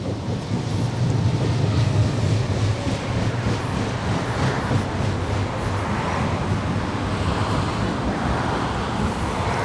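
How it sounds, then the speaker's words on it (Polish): A continuous low rumble of a number 9 tram rolling along 3 Maja Street in Szczecin, Poland, steady and fairly loud, with faint traffic noise around it. "Jeżdżą tramwaje po ulicy 3 Maja, jak widać numer 9."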